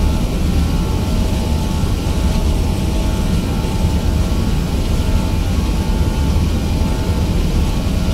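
Vietjet Airbus A320 jet engines spooling up at takeoff thrust on the runway at Hong Kong, a loud, steady, broadband roar that holds constant throughout without a break.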